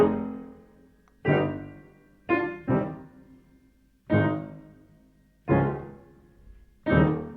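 A piece played with detached, separated notes, a short ABRSM aural-test example: six or seven distinct struck notes or chords, each decaying before the next, in an uneven rhythm with clear gaps, close and clean, no talking.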